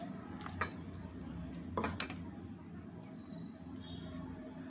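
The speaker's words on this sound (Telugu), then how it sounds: "ఇప్పుడు మొత్తం తీసేసుకుంటున్నానండి ఒక గిన్నెకి" Utensils clink against a bowl while mango ginger chutney is transferred into it, a few sharp metallic taps and scrapes, soft and close, over a quiet background hum.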